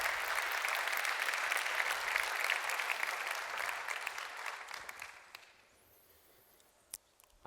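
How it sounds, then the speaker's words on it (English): Audience applause fills a hall at an award ceremony for The smarter E, Intersolar and ees Awards, loud and sustained for about five seconds before fading into scattered claps and near silence. "Your applause."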